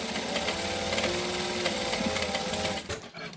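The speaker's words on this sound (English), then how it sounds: "I now know that that tinny sound is the bobbin running out" A sewing machine stitches around the edge of a fabric saddlebag as its bobbin thread runs low, giving a tinny tone. The whir is steady, close and continuous for nearly three seconds, then stops abruptly.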